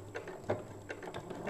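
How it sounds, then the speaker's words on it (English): A home sewing machine running a short reverse stitch through fabric while making a wrist pin cushion, giving a quiet, close, irregular series of light mechanical ticks and clicks. "I'm going to pop my needle down and do a reverse stitch just to secure it in place there"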